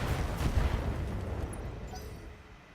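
A BattleTech mech unloads all its weapons at once in a heavy, booming volley that crashes in hard and then rumbles away into a fading tail.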